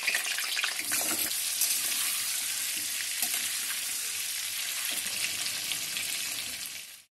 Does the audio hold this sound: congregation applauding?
no